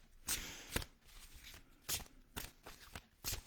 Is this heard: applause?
no